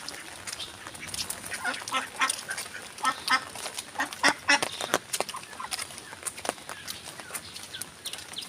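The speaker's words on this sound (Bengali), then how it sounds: "এই যে হাঁসগুলো পাশে দিদি ভাইদের হাঁস, ওরা হাঁস পোষে। ওদের হাঁস এই যে রাস্তার উপরে মুখে জল খাচ্ছে।" Domestic ducks on a village roadside dabble at water, giving a busy run of close quacks and sharp splashy pecking clicks that continue without pause.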